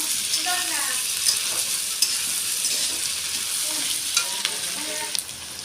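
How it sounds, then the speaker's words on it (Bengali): Fried shrimp tossed into a hot pan of frying potatoes, onion and green chillies set off a loud, continuous sizzle, with spatula stirring and scraping cutting through at intervals. "ভাজা চিংড়ি মাছ দিয়ে দিয়েছি এর মধ্যে"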